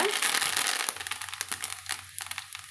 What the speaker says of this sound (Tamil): இப்போ நாம் கொஞ்சமாக கருவேப்பிள்ளைகள் வந்து சேர்த்துக்கலாங்க